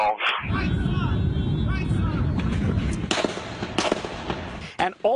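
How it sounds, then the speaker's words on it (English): Rapid gunfire at a baseball field in Alexandria, caught on a cell phone: a steady rumble is broken by several sharp pops and cracks toward the end, with voices partly audible. "captured on cell phone video the chilling moment that rapid gunfire broke out in Alexandria this morning"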